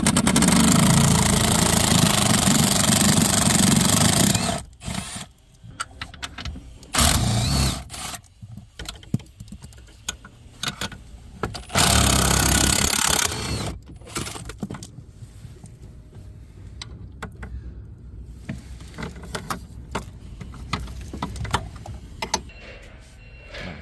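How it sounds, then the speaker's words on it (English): A 15mm socket on a ratchet or power tool removes bolts under a Dodge Ram dashboard. Loud motorized whirring comes in three bursts, followed by scattered close clicks and clatter of tool work. "so now we're using a 15mm socket."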